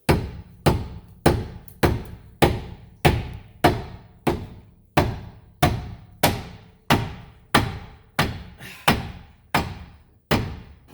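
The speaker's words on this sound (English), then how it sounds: "smashing can only commence with a mallet" A mallet strikes a lower control arm joint on a 2010 Nissan Rogue again and again, about sixteen loud, close, evenly spaced metallic thuds with no talking between them.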